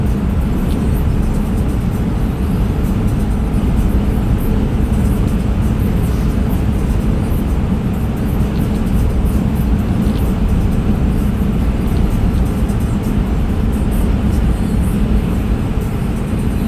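Tesla Cybertruck cruising on a clear highway at speed, a steady broadband roar of tire and wind noise that stays constant throughout, with no voices.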